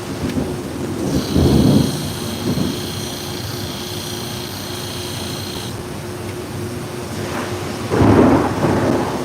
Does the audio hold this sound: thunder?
yes